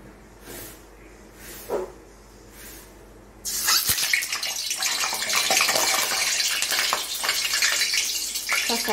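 Eggs dropped into hot mustard oil burst into a loud, steady sizzle partway through, following a quieter stretch with a few faint kitchen knocks; the frying hiss then continues close and unbroken to the end.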